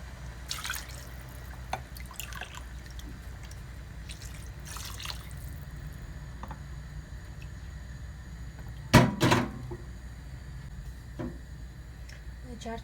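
Water is poured from a small piala bowl into a pot while making Uzbek plov: a few splashy pours, the strongest a short, louder burst near the end, over a steady low kitchen background.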